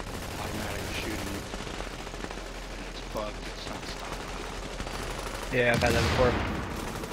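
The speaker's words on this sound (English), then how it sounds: "Got some weird gun that's shooting, automatic shooting." Automatic gunfire in the video game The Division, bursts of rapid shooting heard at moderate distance with a louder burst near the end, under someone talking over game ambience.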